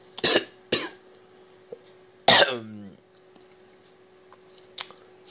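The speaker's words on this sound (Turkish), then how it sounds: "çok öksürüyorum" A person with a sore throat coughs in several harsh, close bursts, one longer and heavier than the rest, followed by quieter throat sounds.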